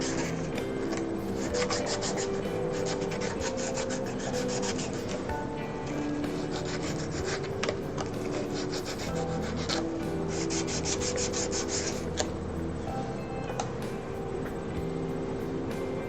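Steady scraping and rubbing as a Fender USA Stratocaster bridge part is sanded thinner and deburred, a continuous close abrasive rasp with small rhythmic variations and no talking.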